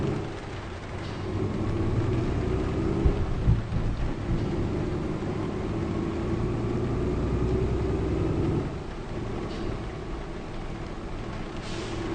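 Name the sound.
rain and thunder in Euro Truck Simulator 2 video game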